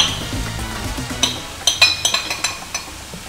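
Cooked chicken tipped back into a frying pan with spinach: a string of sharp clinks and knocks of utensil against pan, about eight close hits in quick succession, over a low background hiss.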